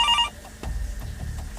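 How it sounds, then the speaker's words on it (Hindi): A telephone bell rings briefly in a sitting room, a short bright burst that cuts off into a low rumbling background. "बैठक में फोन की घंटी घनघनाने लगी"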